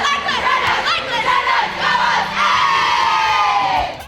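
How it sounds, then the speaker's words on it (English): A sports team's loud group cheer before a home game, many voices shouting and whooping together for about four seconds, one long rising yell carrying through near the end. "We have our Dreadnought cheer."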